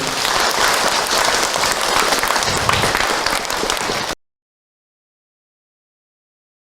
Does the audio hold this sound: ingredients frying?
no